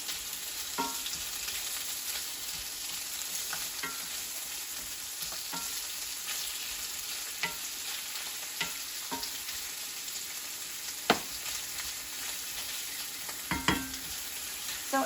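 Andouille sausage fries in a pan with a continuous bright sizzle, broken by occasional spatula taps and scrapes, close and unaccompanied by any voices.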